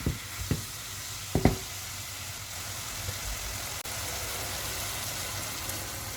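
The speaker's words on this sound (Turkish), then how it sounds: "Bir tık da bezelyelerle çevirdikten sonra suyunu ekleyeceğim." Peas and potatoes sizzling and frying in a hot pan for a baby's pea dish, with a few brief clatters near the start and a steady low hiss throughout, no talk.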